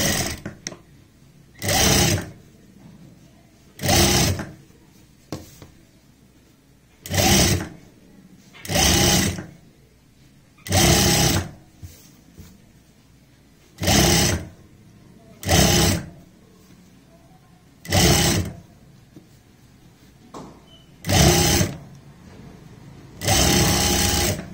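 A sewing machine stitches a bias strip onto a neckline in about a dozen short, loud bursts with brief pauses between them, heard alone with no talk.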